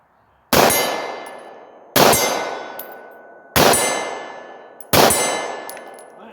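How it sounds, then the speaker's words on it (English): Four sharp pistol shots from a Beretta 92 M9 fired at steel targets 30 yards away, each a loud crack followed by a ringing metallic clang that decays over about a second, spaced roughly 1.3 seconds apart with no talking. "So we're going to shoot 30 yards over there."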